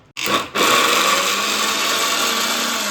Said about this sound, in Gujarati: હવે આપણે મિક્સરમાં 1 સેકન્ડ એને ગ્રાઇન્ડ કરીશું.